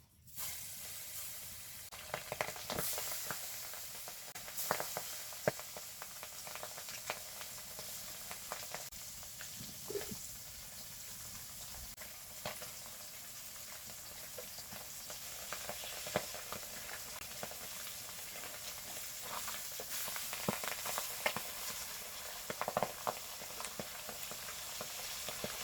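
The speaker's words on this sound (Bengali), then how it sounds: "তেল গরম হয়ে গেছে, এখানে মাছ দিয়ে দিই।" Pabda fish frying in hot oil in a pan, cooked village style: a steady, dense sizzle and crackle that holds at even loudness for the whole stretch, with scattered sharper pops and spits and no voices.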